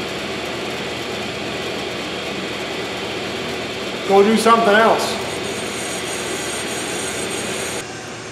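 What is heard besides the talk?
brake lathe machining a rotor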